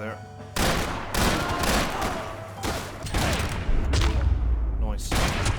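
Max Payne 3 gunfire comes in several loud, close bursts separated by short pauses, mixed with booming impacts and other game action sounds.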